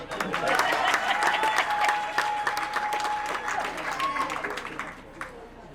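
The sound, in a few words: crowd applause for the woman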